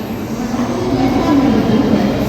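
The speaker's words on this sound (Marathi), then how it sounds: "आपली ट्रेन पण आता आली आहे इथे" Low, steady rumble of a commuter train rolling through a station, loud and close, a constant drone with a faint rising whine.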